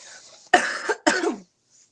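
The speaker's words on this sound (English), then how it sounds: "Oh my goodness, I'm gonna get a cough attack." Two harsh coughs in quick succession, close and loud, with a short gap between them and quiet before and after.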